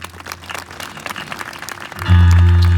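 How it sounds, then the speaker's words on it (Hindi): Church congregation at a Hindi-language Christian convention clapping: steady crowd applause runs throughout, then swells sharply louder near the end, with a sustained tonal music or keyboard layer entering beneath it. "जोर से ताली बजाएं"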